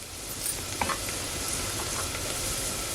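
Red chili powder hitting hot oil in a pan on a wood-fired stove, a steady dense sizzle throughout with a few brief crackling spits, close and loud with no talking.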